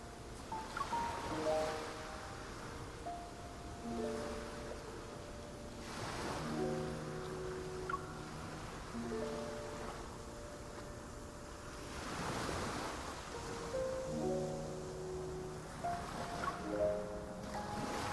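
Ocean waves at sea in the video game Love and Deepspace, soft surges of surf rolling in every few seconds beneath gentle wind, with a quiet melodic musical score layered over them.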